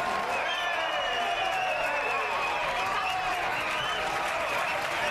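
A boxing-match crowd applauds the fighters with sustained, dense clapping and cheering that fills the whole stretch at steady loudness, a bright wash of many hands with no pauses.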